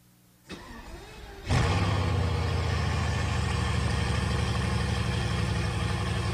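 A Bugatti sports car engine played back through an iPhone app: a brief click, then the engine fires up at about 1.5 seconds into a loud, steady, throaty idle that rumbles on to the end, no voices.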